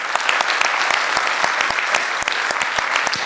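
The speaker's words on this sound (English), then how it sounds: "I'd like to give a round of applause to our 3 potential candidates" Audience applause for three candidates at a county supervisor district debate, dense steady clapping from a room full of people, loud and continuous for the whole stretch.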